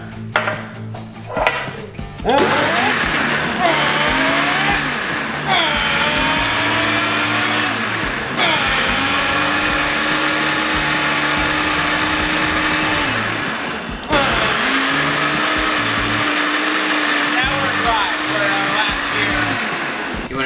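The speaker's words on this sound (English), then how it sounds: "I'm gonna blend this like I'm driving a car." A blender making a smoothie whirs loudly and steadily, its motor pitch rising and falling in long revving sweeps, with voices occasionally heard underneath.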